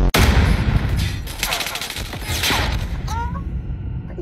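Bursts of gunfire from the Call of Duty Mobile game in a multiplayer search and destroy match: a sharp shot at the start, then rapid crackling volleys that fade, followed by a few short electronic chirps.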